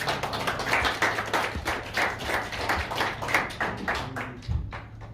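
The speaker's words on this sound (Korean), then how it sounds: "손 대표님 나오실 때 여러분 박수 부탁드리겠습니다." Audience members at a political gathering clap as a party leader comes forward, a moderately loud crowd of hands beating in a fairly regular rhythm that thins toward the end.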